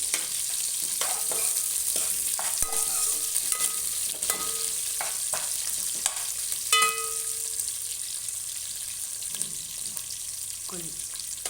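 Onions frying in a pan for chamagadda pulusu, a steady close sizzle with intermittent clinks and scrapes as the pieces are stirred.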